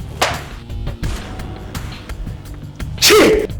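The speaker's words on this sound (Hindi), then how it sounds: "ये वही छींक है जज साहब" A single sharp sneeze bursts out near the end, loud and close, following a few soft knocks and background rumble.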